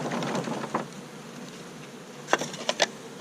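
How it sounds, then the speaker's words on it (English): Honey bees from a package colony buzz in a close, steady drone, with a few louder passes as individual bees fly near, and no talking. "so that not too many bees come out."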